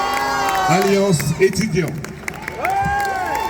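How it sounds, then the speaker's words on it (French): A crowd at a rally applauding and cheering, a steady mass of claps and shouts under a loud amplified voice speaking over a PA. "Je vous demande de les applaudir chaleureusement."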